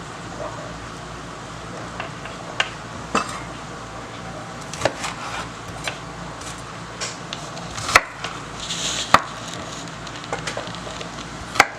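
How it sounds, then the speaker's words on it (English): Knife chopping onions on a wooden board for Chinese-style pepper steak, irregular sharp taps spread across the clip, fairly faint with a light background hiss and no talk. "And this is how I cut my onions up."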